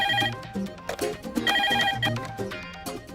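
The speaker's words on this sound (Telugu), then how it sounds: "ఫోన్ చూడు." A telephone rings in repeated bursts of bright electronic trills, loud and close, with no voices over it.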